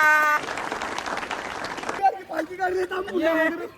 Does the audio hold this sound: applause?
yes